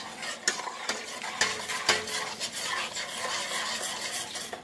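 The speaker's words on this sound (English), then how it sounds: "I'm going to get a spoon and I'm going to stir until combined." A spoon stirs white granulated and brown sugar in a bowl, producing close, gritty scraping with sharp clicks as the spoon knocks the sides, repeated irregularly over several seconds with no voices.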